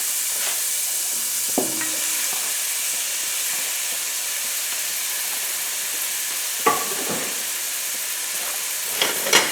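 A steady sizzle of frying mushrooms fills the background, with a few soft scraping stirs from a wooden spoon at scattered moments.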